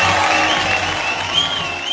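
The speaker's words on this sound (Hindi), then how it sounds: "जोरदार तालियां हो जाएं इनके लिए।" A live audience at a Hindi film stars award comedy show bursts into loud, dense applause with some crowd noise, continuous across the short stretch.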